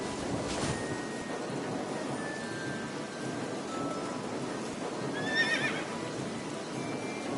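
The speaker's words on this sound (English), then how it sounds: "A horse?" A horse in a PS4 video game whinnies over a constant noisy background, with a brief high neigh burst near the end and faint clopping throughout.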